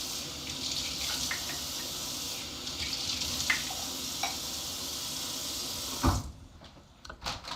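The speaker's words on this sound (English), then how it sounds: "I'm adding the water." Water poured steadily from a tap into a cup of chia seeds, a continuous close trickle that cuts off near the end, followed by a few light clinks.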